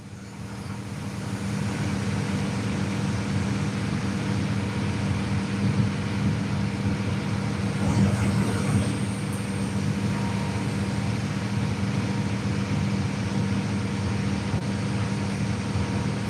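A loud, steady engine rumble from a nearby truck runs unbroken throughout, heard outdoors beside the water during a fishing tournament, with no talk.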